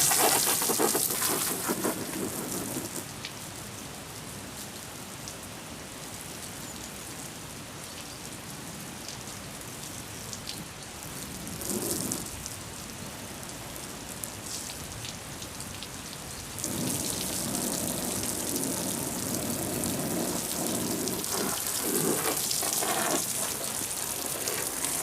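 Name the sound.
rinsing a 2CV canvas hood with water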